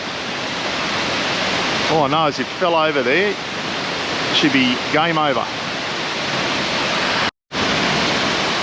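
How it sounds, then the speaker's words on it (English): Steady, loud broadband roar of a high waterfall at Nandroya Falls in Far North Queensland, filling the whole clip close by, with a voice talking over it partway through. "That's a pretty high waterfall"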